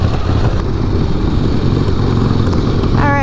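A Harley-Davidson Sportster motorcycle being ridden, its engine a loud, close, continuous rumble that holds steady throughout, with no talking.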